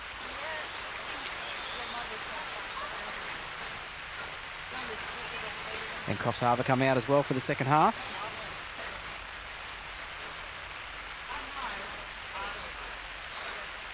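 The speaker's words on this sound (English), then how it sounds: "Rain's probably marginally lighter than it was when they went off at half time" Steady rain hisses over an under-18 rugby league ground during a Macksville versus Coffs Harbour match, a constant wash under a commentator's voice, with a brief louder burst midway.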